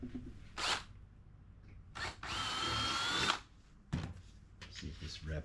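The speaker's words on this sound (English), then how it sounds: "Sometimes you have to drill the fender out a little." Power drill enlarging a hole in a Schwinn rear fender, firing in several short whirring bursts, the longest about a second, close by with quiet handling noises between them.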